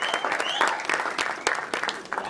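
An audience applauds at the live launch of a devotional song for a film, a dense patter of many hands clapping steadily throughout, with a voice briefly heard over it.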